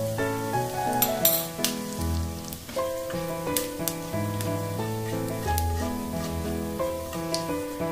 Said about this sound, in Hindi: जीरा साडा तिड़क गया